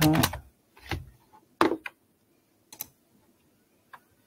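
Keys tapped on a computer keyboard while entering a date filter in project-management software: a few isolated, sharp clicks and short bursts spaced irregularly over four seconds, close and fairly quiet with no voices.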